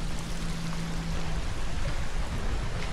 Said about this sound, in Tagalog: Batis ba yun? May ilog na malinggit.